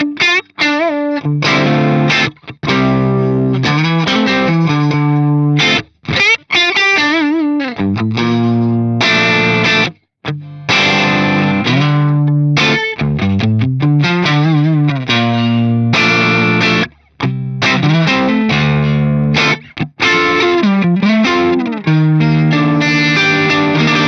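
Electric guitar played through a Fractal AX8 modeling a Fender Twin amp, with double reverb and vibrato, strumming and picking continuously, loud and upfront with a shimmering, wobbling wash and brief gaps between phrases.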